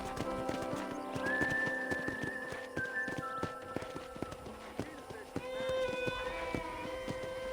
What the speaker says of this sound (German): Das ist das Pferd, was man als Vorbesteller bekommen hat